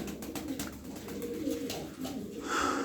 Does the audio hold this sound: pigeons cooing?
yes